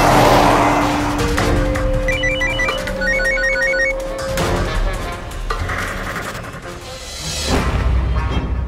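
A telephone trills in short repeated bursts within a busy, noisy scene, ringing for a few seconds before other clatter and ambient sound take over.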